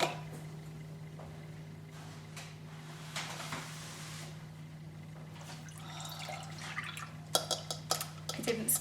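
Almond milk is poured from a measuring cup into a bowl for vegan cinnamon pancakes, a faint liquid trickle and soft drips set against a steady kitchen hum, with small splashy bursts toward the end.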